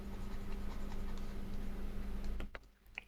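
Pen scratching steadily across paper while working out a math problem, a close continuous scribbling that runs for a couple of seconds and then breaks off into a few brief taps.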